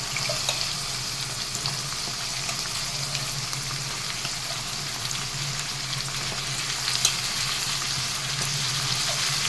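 Brinjal pieces sizzle and fry steadily in a pan in a home kitchen, a continuous close crackle with small spits and no voices.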